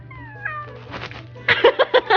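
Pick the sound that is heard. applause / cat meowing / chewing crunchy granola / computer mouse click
cat meowing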